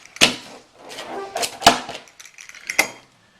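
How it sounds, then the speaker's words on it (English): Homemade pizza with a crispy bottom being sliced into pieces, with a few sharp crunching cuts standing out over quieter scraping strokes, close and fairly clear with no talk. "We're going to slice through 1, 2, we got 4 slices, and then we're going to cut those slices in half."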